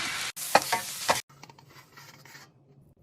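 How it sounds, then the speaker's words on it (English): Rice with shrimp, soy and mirin is stir-fried in a pan, giving a loud scraping, stirring sizzle for about a second before it drops to a softer, steady frying hiss. "Stir fry 1 to 2 minutes."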